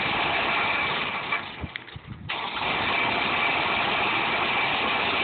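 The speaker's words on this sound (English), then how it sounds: "We have here a 2002 woodchuck chipper." 2002 Woodchuck wood chipper engine, already running loud and steady, briefly dips and sputters as it is keyed on again, then settles back into a rough, continuous idle up close.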